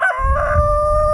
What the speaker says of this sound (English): there's a chicken coop about 20 feet down the hill right there, and there's 2 roosters